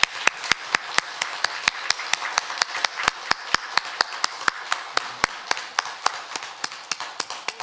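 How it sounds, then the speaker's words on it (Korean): A church congregation at a Korean Sunday service claps in steady rhythmic unison, with sharp, even claps about three or four per second that continue throughout. "힘찬 박수로 영광 돌리겠습니다."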